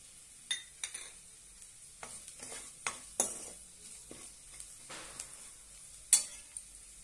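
Cowpea, brinjal and potato curry with red chili powder and salt being sautéed in a pan: a soft, quiet sizzle under intermittent spatula scrapes and light clicks, spread unevenly across the stretch.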